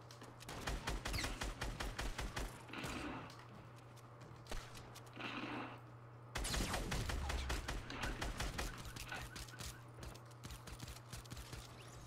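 Fortnite gunfire: steady bursts of rapid shots at moderate distance in a battle royale match, with a louder stretch midway and no talk.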